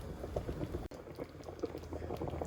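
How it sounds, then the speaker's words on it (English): A pot of water with chicken pieces boils steadily for broth, a dense continuous bubbling and rolling simmer heard up close, with a brief dip partway through and no talking. "the water's boiling, so now I'm going to turn it down to simmer"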